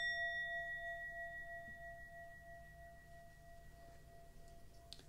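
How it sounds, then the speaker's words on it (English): A small sound bell rung once before a Reiki session rings out with clear sustained tones that slowly fade over several seconds in a quiet room. "I'm feeling called to do another little sound bell before I start the Reiki."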